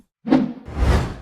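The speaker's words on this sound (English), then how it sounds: "So to swinging arms, you just add whoosh sound effects." A swinging-arm whoosh effect for a video game character, sounding as two quick close swishes: a short sharp swipe followed by a longer, fuller rushing sweep, with no talking.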